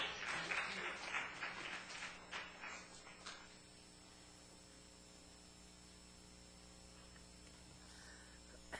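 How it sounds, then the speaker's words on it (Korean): Welcoming applause for a speaker at a church gathering, a few seconds of scattered clapping that fades into a steady electrical hum and static. "박수로 환영합니다"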